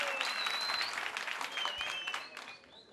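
Audience applause after a live performance of the Turkish song Sallana Sallana, dense steady clapping with scattered whistles and cheers, fading slightly toward the end.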